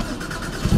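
Porsche 981 Cayman GT4 with an iPE Valvetronic exhaust firing up: a low engine rumble that swells into a deep, loud burst of revs at the end of a very short moment.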